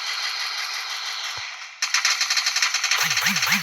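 Gunfire in the mobile battle game Free Fire: a steady hiss of game sound, then a burst of rapid, loud automatic shots with a rattling rhythm near the end.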